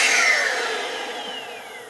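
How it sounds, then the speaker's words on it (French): Proscenic P10 Pro cordless stick vacuum cleaner powered on with its handle trigger, giving a loud, steady, close-up whine with a high tone that eases slightly as the motor settles. "au niveau de la poignée vous avez la gâchette pour activer l'aspirateur"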